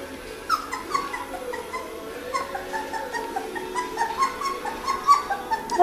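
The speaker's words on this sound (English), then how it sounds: "They're good puppies." A litter of puppies whimpering and whining, many overlapping high, thin cries in an irregular stream, close and fairly loud, with no talking.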